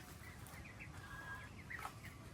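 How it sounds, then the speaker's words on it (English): Soft, scattered clucking from a few Silkie chickens on a farm in the Philippines over a steady low background hum, with short chirpy calls rising here and there. "So these are my chickens. These are Chinese Silkies."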